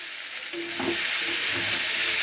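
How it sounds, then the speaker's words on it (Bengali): Vegetable chow mein noodles being stir-fried and tossed with vegetables in a pan, a steady sizzle with scraping stir strokes throughout, close and fairly loud. "এবার কিন্তু চাউমিনগুলোকে অ্যাড করে দিলাম এখানে, দিয়ে এবার সবজির সাথে সুন্দর করে মিশিয়ে নিতে হবে তোমাদের।"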